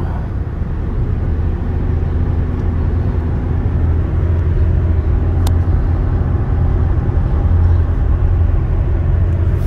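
A 2008 Chevrolet police interceptor car accelerates steadily, its engine giving a loud, continuous low rumble with road noise throughout, heard from inside the car with no talking.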